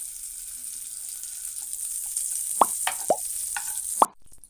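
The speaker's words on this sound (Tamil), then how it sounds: "கொஞ்சமாக நெய் போட்டுக்கிறேன் நான்" Ghee goes into a pan after semolina has been roasted, a steady high sizzle with a few soft plops and pops near the end before the sound cuts off abruptly.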